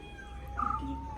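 A cat gives one brief, fairly faint meow midway through, over a low steady background hum.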